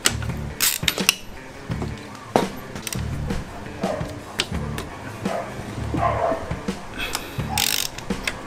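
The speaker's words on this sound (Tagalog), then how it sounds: "Loosen ko lang itong spark plug." A wrench works loose a spark plug on a Yamaha DT125 two-stroke motorcycle during a top-end rebuild, giving irregular close metallic clicks and clacks at moderate loudness, with faint background noise and possible distant barking.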